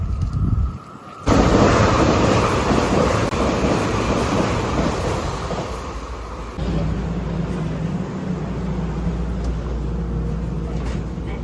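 A metro train rolls into a station in Seoul with a loud, broad rushing roar that stays steady and then eases to a lower rumble.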